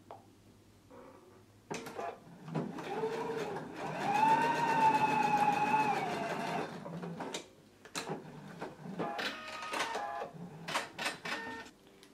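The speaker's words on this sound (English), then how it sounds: "going to do a basting stitch at 5/8 of an inch seam allowance across this raw edge" A home sewing machine runs a basting stitch along a raw fabric edge at a 5/8-inch seam allowance. Its motor whirs in steady bursts, with a sustained whine in the middle, and clicks and handling noises sound between the runs.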